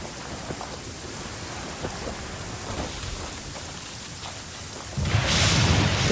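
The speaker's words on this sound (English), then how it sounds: "Taking a stroll in the middle of a downpour certainly rouses the spirit." Steady heavy downpour of rain in a video game storm, a dense continuous hiss with scattered drop impacts, swelling into a louder, fuller rumble of rain and thunder near the end, with no voices.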